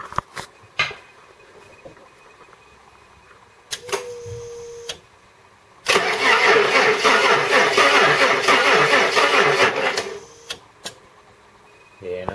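A tired car engine with a weak battery cranks steadily for about four seconds without catching, loud and close, with a brief whir before it and a few sharp clicks after.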